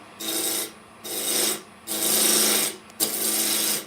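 A lathe tool cutting wood for a cake stand gives four rasping, hissing cuts, each lasting under a second, with short quiet gaps between them. The sound is close and loud, and no voice is heard.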